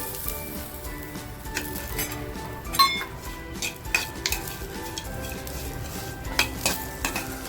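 Dry coconut and whole spices roasting in a pan, with soft stirring scrapes, occasional metallic clinks of a spoon against the pan and a faint sizzle throughout, close and alone.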